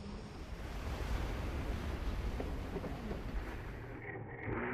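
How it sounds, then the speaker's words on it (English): Atlantic surf breaks and splashes steadily at Agon-Coutainville, a loud continuous wash of waves with wind buffeting the microphone, easing off near the end. "splashing his way through the Atlantic surf"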